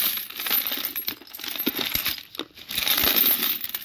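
A container of mixed coins tipped out onto a pile, giving a steady, dense clatter and jingle of metal pieces sliding and tumbling for several seconds, close and fairly loud, with no talking.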